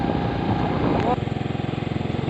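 A motorcycle engine putters close by in a steady rhythmic idle-like chug that becomes more evenly pulsed partway through, heard over a loud, continuous ride or road noise without speech.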